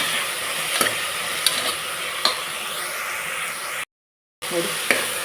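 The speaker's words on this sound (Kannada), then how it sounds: "ಆಲೂಗಡ್ಡೆ ಬದನೆಕಾಯಿ ಹಾಕಿದ್ದೀನಿ ಹಾಕ್ಬಿಟ್ಟು ಇವಾಗ ಇದನ್ನು ಸ್ವಲ್ಪ ಚೆನ್ನಾಗಿ ಫ್ರೈ ಮಾಡ್ಕೊತೀನಿ" Potato and brinjal pieces frying in a pan, a steady hissing sizzle with occasional sharp stirring taps, one brief dropout of silence near the end, and no speech.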